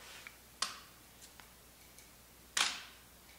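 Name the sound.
SLR camera shutter opening and mirror clunking during 2-second exposure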